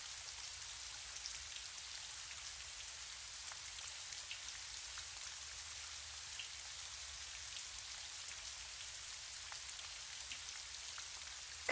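Gentle rain falls outside a window, a steady, soft, even patter of drops that continues without a break and with no voices.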